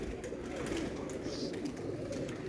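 A champion flying-breed pigeon coos in low, soft, steady murmurs against a constant background hum, with no one talking.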